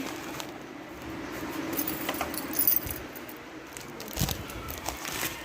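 Vehicle keys jangle in short metallic bursts against a steady outdoor background, with a couple of louder clinks partway through.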